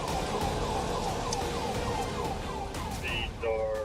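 A police car siren wails in a repeating up-and-down pattern over steady road and engine noise during a high-speed pursuit, with a brief higher chirp of siren near the end.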